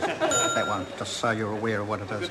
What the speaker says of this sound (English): that's the sound of the new bell